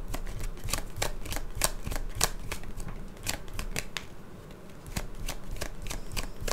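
Tarot cards from a deck are shuffled by hand, a close, rhythmic series of crisp snapping riffles and soft slides repeating steadily with no voices.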